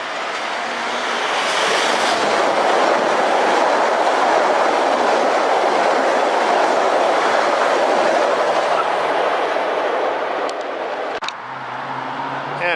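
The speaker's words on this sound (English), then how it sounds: "Comes another westbound, will be blowing by at 5:07." A westbound LIRR commuter train blows past close by, a steady loud rush of rolling wheels and clatter lasting several seconds before cutting off abruptly, leaving quieter background hum.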